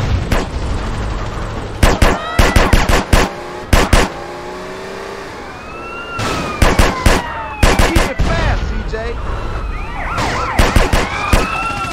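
Clusters of sharp gunshots from a drive-by in GTA San Andreas, fired from a BMW Classic, loud and rapid over a wailing siren and engine noise.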